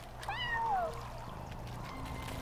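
A cat meows once in the video game Yonder: The Cloud Catcher Chronicles, a clear rising-falling call over a low game hum, with no talk.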